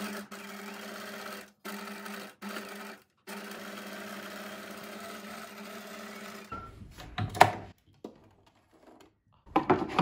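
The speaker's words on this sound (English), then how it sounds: "I'm just gonna sew." Sewing machine stitching free motion embroidery on fabric, a close steady mechanical whir running in bursts with short pauses, then stopping for softer handling clicks and rustles.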